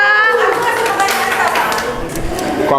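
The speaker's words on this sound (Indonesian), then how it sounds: "Kita kasih tepuk tangan dulu untuk para peserta." Participants at a lively group game session get a round of clapping from the crowd, dense and steady throughout, with children's voices and chatter mixed into the noise.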